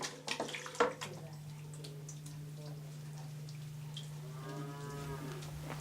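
A single cow lowing at moderate distance near the end, a drawn-out harmonic moo over a steady low mains hum, preceded by a few brief clatters; no talking.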